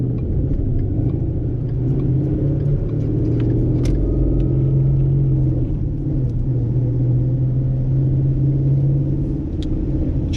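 A car drives through rain, giving a steady loud road rumble with a low engine drone and a hiss of wet tires, no voices.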